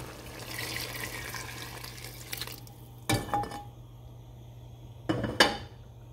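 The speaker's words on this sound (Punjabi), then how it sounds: "ਹੁਣ ਮੈਂ ਇਹਦੇ ਵਿੱਚ ਸਾਰਾ ਪਾਣੀ ਐਡ ਕਰ ਦਿੱਤਾ" Water poured into a cooking pot of soaking soya nuggets in a home kitchen, a soft running pour in the first half followed by two sharp clanks of metal pot and utensil, close and with no talking.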